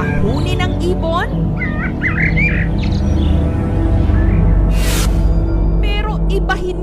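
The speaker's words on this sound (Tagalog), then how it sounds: "Isa ka rin ba sa mga nare-relax kapag nakaririnig ng mga huni ng ibon?" Assorted birds chirp and call over a steady loud rumble of background noise, with bright whistled notes and squawks coming and going at varying distances.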